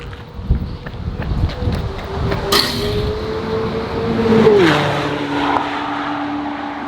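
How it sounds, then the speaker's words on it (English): A McLaren Senna and a Ferrari pass on a racetrack, engines rising then falling in pitch as the cars sweep by at a distance, with wind buffeting the microphone throughout. "There's the Senna, that was the Ferrari."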